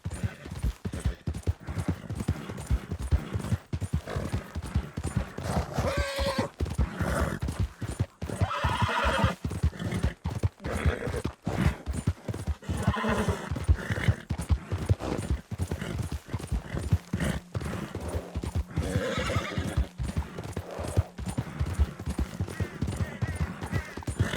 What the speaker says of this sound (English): My horse is being a bit tired here.